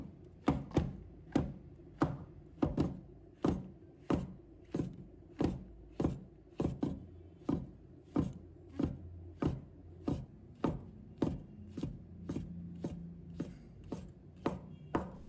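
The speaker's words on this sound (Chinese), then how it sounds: "把它切成小粒。" A knife chops shiitake mushrooms into small dice on a cutting board, with steady, evenly spaced crisp knocks repeating about twice a second, close and clear, and no talking.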